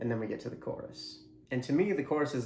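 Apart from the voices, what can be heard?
No everyday noises stand out.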